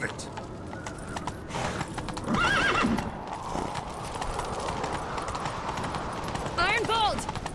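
In the game Kings Gambit, rapid hoofbeats clatter under shouting voices, with a horse neighing sharply twice over the steady galloping rhythm.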